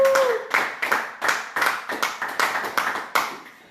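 A church congregation claps in a steady, loud rhythm, about a dozen sharp hand claps in quick succession with no voices over them.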